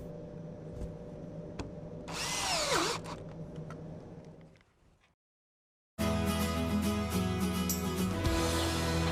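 A power drill with a Kreg drill guide whirs and bites into wood drilling pocket holes with a rising whine, stops, then another burst of drilling follows after a short silence.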